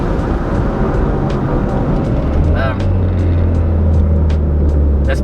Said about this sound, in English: You feel that boost kick in a lot better though.